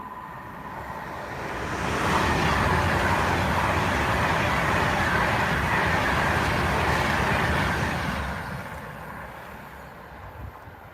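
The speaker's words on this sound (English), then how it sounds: "here comes another Pendeleo" A short four-coach Pendolino train passes close by, its broadband roar and rail rumble swelling over about two seconds, holding steady, then fading away toward the end without any talk.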